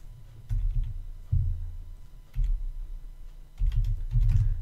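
Someone types into a search bar on a computer keyboard, making bursts of key clicks and thuds in short groups separated by pauses, close and fairly loud, with no voices.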